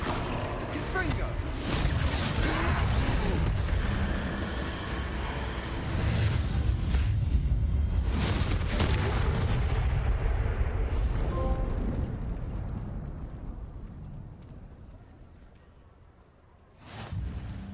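In a Hogwarts Legacy troll fight, a Confringo spell explosion booms out in a broad, rumbling blast under in-game voices, then fades into near quiet before a short final thump.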